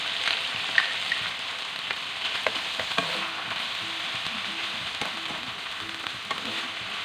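Half a kilo of beef mince fries with a tablespoon of ginger garlic paste in a pan, giving a steady dense sizzle with occasional stirring clicks and scrapes, close and continuous with no talk.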